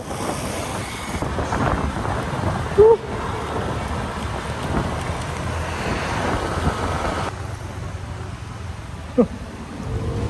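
Rain falls during a motorcycle ride in Sarangani Province, a steady hiss of drops mixed with rumbling wind buffeting the microphone, with a couple of brief knocks.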